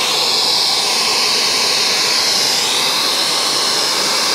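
A 1900-watt hair dryer on full power, running off a Jackery Explorer 1000 Plus power station, roars in a loud, steady, close-up airy whoosh that holds unchanged throughout, with no talking.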